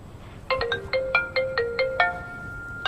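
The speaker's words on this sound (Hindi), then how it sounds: "अनिल का कॉल, इतना लेट" A mobile phone rings for an incoming call, playing a melodic ringtone of short bright tones in a quick repeating pattern. It is fairly soft and plays alone.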